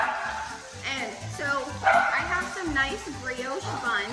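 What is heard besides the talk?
dog barking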